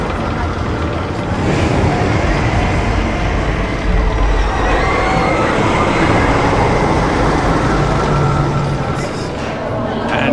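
Wicker Man wooden roller coaster at Alton Towers, a loud continuous rumbling roar of the train rolling on track, close and unbroken for the whole stretch, with a faint voice blended into the noise.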